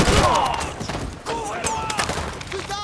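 Video game gunfire from Call of Duty 3 crackles in a dense, continuous fusillade under shouted soldier voices, loud and busy throughout.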